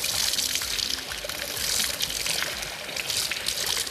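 Cold healing mineral water pours steadily from a spa tap in a continuous splashing stream, moderately loud and close, with no talk.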